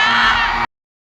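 A concert crowd at a show screams loudly during a song, a dense burst of shrieks that cuts off abruptly after about half a second.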